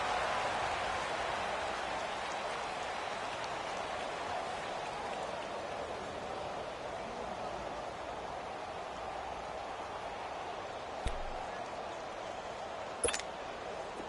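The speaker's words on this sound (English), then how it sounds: "Charles, the forecast called for rain throughout the entire game, and we got rain throughout the entire game." Rain falls throughout an American football video game, a steady, soft hiss of downpour with no talk, broken by a couple of brief sharp clicks near the end.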